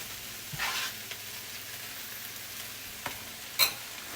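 Smoked turkey sausage links fry with onions and bell peppers in a pan, a steady close sizzle broken by a few soft scrapes and stirs, with no talking.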